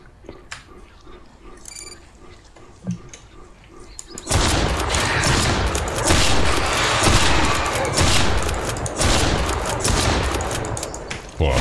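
Gunfire in the survival game Mist Survival starts after a quieter stretch, then runs as dense, loud, rapid bursts and volleys, with scattered other game sounds in the background.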